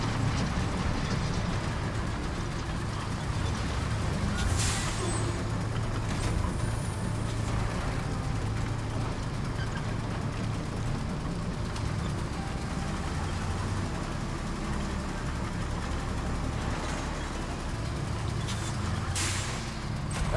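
A heavy vehicle in the RoadCraft game plows a route through a forest with a continuous low engine rumble, with occasional cracks and crunches of trees breaking above it.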